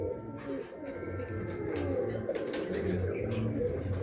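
A standing pair of Kalanka pigeons, male and female, coos at a home pigeon sale in Naihati, low throaty rolling coos repeating steadily over a busy background of other birds and faint chirps.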